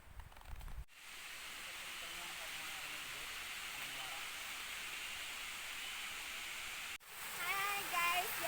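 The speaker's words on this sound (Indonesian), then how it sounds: "jadi ini ada satu air terjun ini ya" Pasir Jati waterfall gives off a steady, broad rushing hiss, loud and close, cut by brief handling breaks near the start and end.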